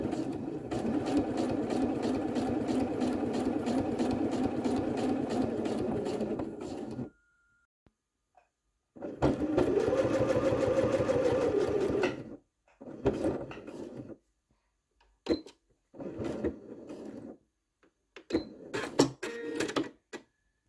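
A sewing machine stitches through the layered fabric of a drawstring bag, one long steady run, a second sustained burst, then several short stop-start stitching spurts, close and clear.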